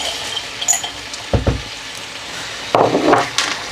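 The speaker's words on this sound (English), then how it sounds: "I'm now going to add the peas straight in" Peas tipped into a pan of frying potato curry for Pakistani aloo mattar: a couple of short clattering bursts and scrapes of the pan, followed by a brief louder rush of sizzle, close and alone.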